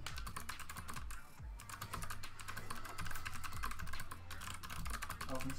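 Rapid clicking of a computer keyboard, steady bursts of close key taps with soft pauses, a voice faintly audible in the background.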